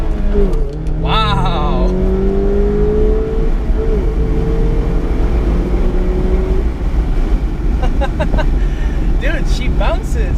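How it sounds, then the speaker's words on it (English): A 2016-on Mazda MX-5 Miata ND roadster accelerating hard, its engine note rising steadily from inside the cabin as people talk and exclaim over it. "let's do the first pull"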